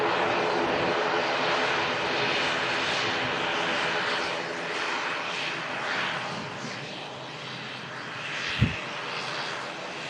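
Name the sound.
airliner engine noise at airport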